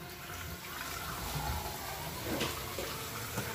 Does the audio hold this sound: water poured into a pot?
yes